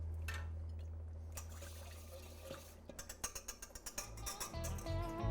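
Hot chicken broth ladled into eggs to temper them for Greek avgolemono soup with lemon: a soft liquid pour, then a run of quick rhythmic whisk clinks against the bowl, close and fairly quiet.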